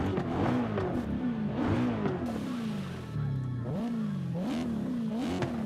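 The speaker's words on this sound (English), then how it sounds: "So again, a naturally aspirated V8." BMW naturally aspirated V8 in Forza Horizon 5, a rear-wheel-drive car with a manual gearbox, revving repeatedly in rising and falling sweeps with brief drops between gear changes; loud, steady engine sound with no talk.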